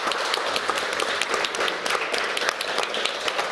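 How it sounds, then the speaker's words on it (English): A conference audience applauds at the close of a panel on rebuilding the economy, with thick, continuous clapping from a sizeable crowd, steady and fairly close throughout. "So let's make a big applause for everybody."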